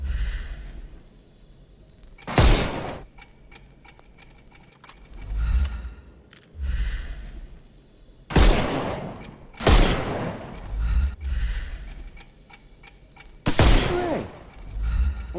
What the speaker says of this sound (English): Shoot off their armor.